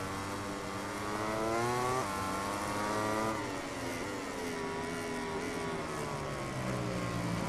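A Ducati MotoGP bike's engine in MotoGP 18, a steady high-revving whine with shifting pitch and gear changes, droning continuously at moderate level.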